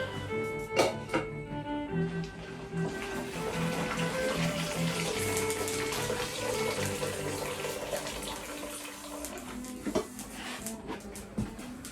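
Water drained from a cooking pot pours into a kitchen sink, a continuous close splashing gush with a few clanks of the pot at the start and no talk.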